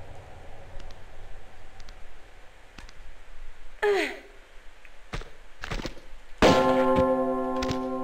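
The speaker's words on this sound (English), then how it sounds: "Now that bell has just opened the other gate that's to the left of me" A bell rings inside the Ice Palace level of the video game Tomb Raider II Remastered, a sharp metallic strike with a long ringing tail over low ambient game noise and scattered thuds.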